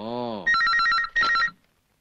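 A telephone rings in two sharp bursts of electronic trilling separated by a short gap, after a brief sustained tonal sound at the start, then cuts to silence.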